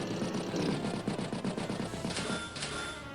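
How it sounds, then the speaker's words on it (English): A recon unit's machine gun fires at a tank in Advance Wars by Web, sounding as rapid, rhythmic bursts of rattling game gunfire that stay loud and close for about three seconds. "Recon trying to machine gun down that tank a little bit"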